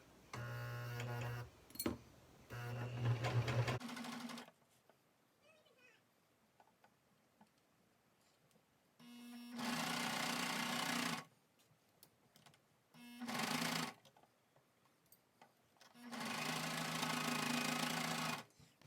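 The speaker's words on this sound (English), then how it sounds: "be careful as you sew this together" Sewing machine stitching through several stretchy layers of sweatpants fabric, its motor whirring in short bursts of a few seconds each, separated by quiet pauses, with brief sounds of handling between.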